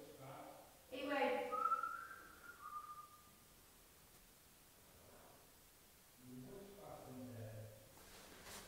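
Faint whistling in a quiet room during a nighttime paranormal investigation of an old schoolhouse: a short rising then falling whistled tone near the start, followed by soft murmured voices later.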